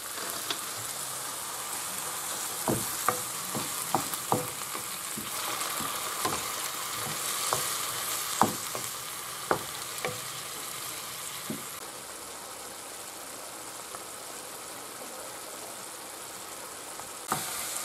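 Wine with raisins, sherry, pineapple and juice bubbles and evaporates in a pan, a steady soft sizzle with scattered light pops and ticks, continuous and fairly quiet, with no talking.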